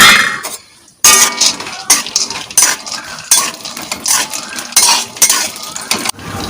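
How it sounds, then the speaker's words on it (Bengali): Raw peanuts being fried and stirred in a pan, giving a steady run of close metallic scraping and clinks from the stirring utensil, with brief pauses between the strokes. "বাদামগুলো আগে ভেজে নিচ্ছি"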